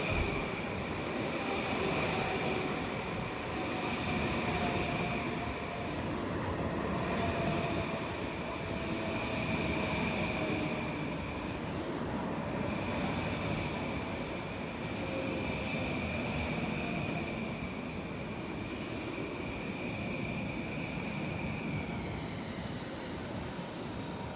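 A new M9 Long Island Rail Road commuter train rumbles steadily into a station with metallic wheel and rail noise and a whining motor tone, rolling in slowly, no voices present.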